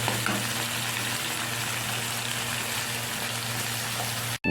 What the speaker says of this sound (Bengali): আলু বেগুনটা তেল পটকার সাথে ভাজা ভাজা হয়ে এসছে।